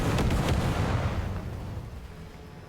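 Artillery shells land in War Thunder, a heavy booming impact with a dense rumbling blast that slowly fades over a few seconds, loud and close.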